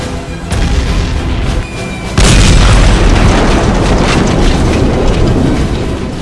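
Heavy booming toy-battle cannon blasts in a Playmobil medieval castle attack, a deep thud followed by a louder sustained rumbling barrage that rolls on with wind-like roar, no voices.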